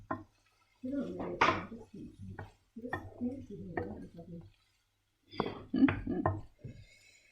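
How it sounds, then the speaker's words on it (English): Utensil stirring Brussels sprouts and onions in a pan gives soft, intermittent scrapes and clinks close by, heard under a person talking. "So I'm mixing the Brussels sprouts in onions"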